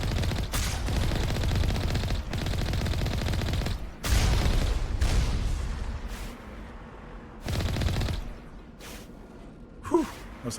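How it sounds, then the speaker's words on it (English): Rocket fire and explosions in Mass Effect Legendary Edition, with loud sustained bursts of gunfire and blasts broken by short pauses. A brief gasp near the end. "Whew, that was a close rocket."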